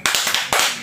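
Group hand-clapping from a Sunday school service class, two sharp bursts of many hands striking together in a quick rhythmic pattern, close and loud.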